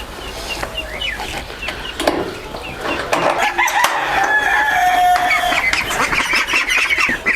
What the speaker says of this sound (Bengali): এটি হচ্ছে আপনার পিকিন স্টার তেরো হাঁস এখানে অসংখ্য এখানে হাঁস রয়েছে